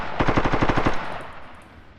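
Machine gun on a Kiowa helicopter in the DCS flight simulator fires a rapid burst of about ten loud, evenly spaced shots, then the sound decays into a fading echo and quiet engine hum.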